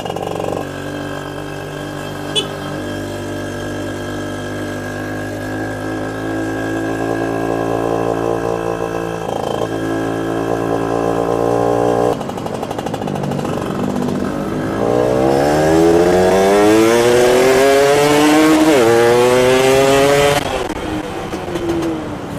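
A Yamaha F1Z-R motorcycle fitted with an AM exhaust, with racing ratio and porting, idles with a steady drone, then revs hard in rising and falling sweeps, loud and close, with no talking.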